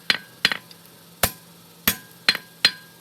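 Hammer blows ringing on an anvil while forging a fork, six sharp metallic strikes, some doubled as quick bounces, close and loud with a brief ring after each, unevenly spaced and alone.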